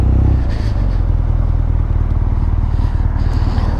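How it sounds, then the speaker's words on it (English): A motorcycle engine rumbles and revs at a distance, a steady low throbbing drone that continues throughout, with no voices. "somebody's revving something up somewhere, but I think it's that road behind me."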